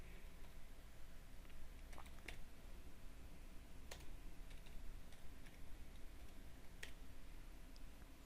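Faint, sparse key clicks on a computer keyboard sound over a steady background hum, a few isolated taps spread across the stretch.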